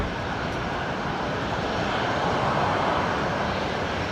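At night at Brisbane Airport, a Qantas Boeing 737-800 bound for Melbourne lines up on runway 19 left at Alpha 3, its jet engines giving off a continuous, even, broadband roar at a distance.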